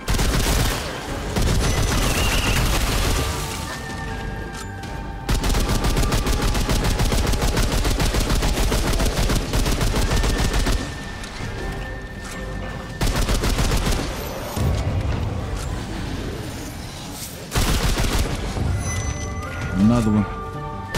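Rifle fire in the video game Remnant 2: repeated rapid bursts of loud, close gunshots in several volleys separated by short pauses, with a voice speaking in between.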